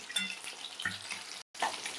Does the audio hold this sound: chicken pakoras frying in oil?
yes